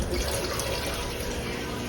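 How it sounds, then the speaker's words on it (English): A steady, dense rush of tap water pours into a cooking pot in a home kitchen, continuous and close with no talking over it. "while my pot is filling up"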